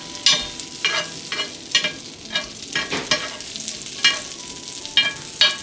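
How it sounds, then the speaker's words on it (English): Ginkgo nuts fry in a pan with a steady crackling sizzle, punctuated by repeated scraping stirs that come in short, close bursts, with no talking. "I can hear the sizzling sound."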